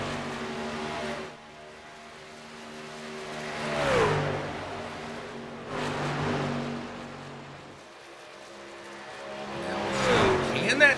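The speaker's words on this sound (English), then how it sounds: "He was closing that gap too quick for Evan." Speed trucks in the NSRL ONE3 Speed Truck Series race around a track, roaring past in repeated swelling and fading passes. Tires squeal now and then, and a commentator talks continuously over the engines.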